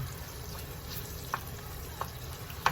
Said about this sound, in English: You're going to keep stirring this, cook it down, just until the onions get softer.